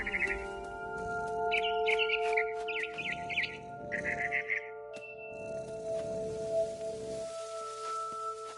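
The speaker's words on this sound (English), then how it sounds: "Then I heard chirping outside my window." Barn swallow chirping in the Edith Finch video game, a series of bright twittering bursts close by over a steady hum of background ambience.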